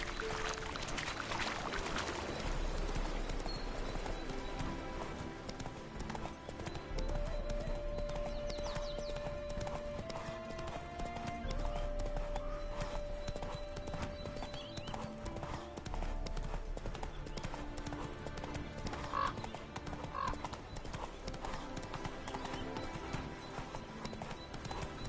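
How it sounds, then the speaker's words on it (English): Roach, the horse in The Witcher 3: Hearts of Stone, trotting with steady close clip-clop hoofbeats over a dense game soundscape, with a brief whinny early on. "Spooking my horse."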